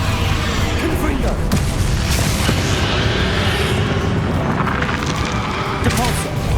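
Confringo fire spell blasts in the Hogwarts Legacy finale fight, a dense run of booming explosive bursts layered over constant loud game music and effects, with a voice shouting spell names throughout.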